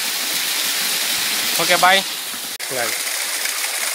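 Talakona waterfall near Tirupati roars in a constant, loud gush of falling water. A couple of brief spoken words cut through the rushing noise.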